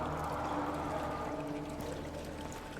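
A character wades through water in the horror game Amnesia: The Dark Descent, giving a steady, close sloshing and splashing wash that fades slightly toward the end.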